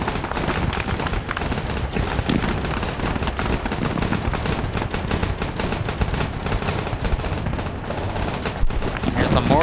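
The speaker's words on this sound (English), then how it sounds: "You got some tracer fire coming down." Dense, continuous gunfire from a military video game, with rapid bursts, tracer fire and heavy volleys overlapping in a loud, unbroken barrage, plus a few deeper booming hits; faint speech underneath.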